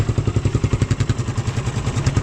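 Suzuki Raider 150 motorcycle fitted with a new exhaust, idling close by with a steady, rapid, even chug of exhaust pulses and no talking.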